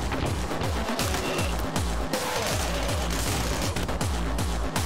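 Rapid, dense gunfire in the fast-paced first-person shooter Anger Foot, with continuous loud bursts over driving game music that never lets up.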